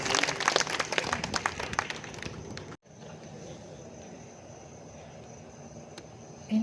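Audience clapping after a poem at an open-air Hindi poets' gathering held by a Ganesh festival committee, a brisk burst of many hands that cuts off abruptly midway, leaving faint hall noise and hum.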